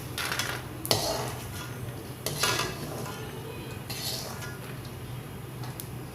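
Fried charoli nuts being moved onto a plate, a run of close clinks and scrapes of utensils on dishes in a kitchen with a steady background hum, no talk.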